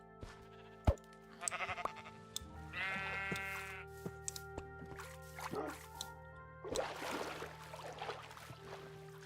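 Minecraft sheep bleating in a mountain game world, a few short nasal bleats spread among quiet drips, clicks and a low steady hum, fairly faint overall.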